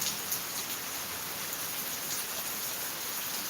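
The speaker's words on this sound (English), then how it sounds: "Can we get some more rain?" Steady rain falls across the whole stretch, an even, dense hiss of drops hitting surfaces, fairly close and constant with no voices.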